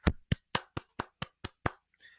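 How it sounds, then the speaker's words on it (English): Hand clapping: eight sharp, evenly spaced claps in quick succession, loud and close, ending with a brief soft rustle. "wow, I'm gonna applaud you"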